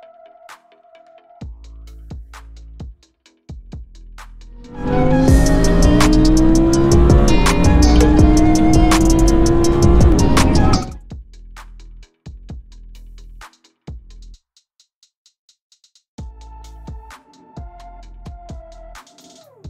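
A car moves off with a loud, sustained surge of engine and road noise lasting about six seconds, set between quieter stretches of light ambient sound.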